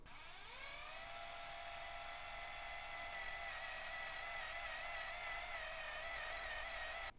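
A drill spins up a Lee case trimmer fitted with a shell holder on a lock stud, cutting a cartridge case: a steady high-pitched electric whine that ramps up briefly, then holds loud and constant for several seconds.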